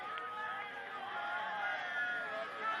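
Steady crowd murmur and babble at a rugby league match rises while a kicker lines up his shot, a continuous distant hubbub without distinct cheers.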